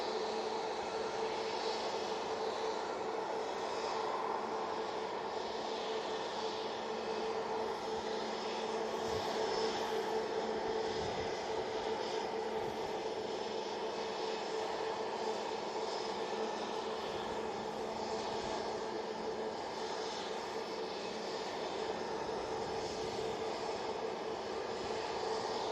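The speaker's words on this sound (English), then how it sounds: "SAS is now crossing over to 3 right, but the Emirates is very close behind it." Distant airliner jet engines at Manchester Airport as an SAS plane crosses to runway 3 right with an Emirates jet close behind, a steady broadband roar holding level throughout with no voices.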